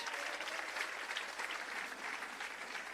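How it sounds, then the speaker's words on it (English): An audience at a Jamaica Civil Service long service awards ceremony gives a round of applause for the band, a steady, even wash of clapping from many hands, moderately quiet and unbroken for the whole stretch. "Give them a round of applause for their musical contributions"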